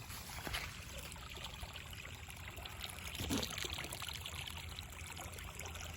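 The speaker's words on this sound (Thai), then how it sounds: "ตอนนี้ก็เปิดน้ำตลอดนะครับ จะให้ดูดน้ำนี่นะครับ ไหล น้ำไหลตลอดนะครับ" Water runs continuously from an opened inlet into an organic rice paddy, a soft steady trickling and gurgling flow heard close by and fairly quiet, with no talking over it.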